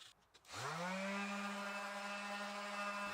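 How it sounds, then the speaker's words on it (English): A small random orbital sander spins up and runs steadily while smoothing a rasped guitar neck, a loud continuous whine with a sustained tone and no voices. "I brought in my small random orbital sander just to get that cleaned up"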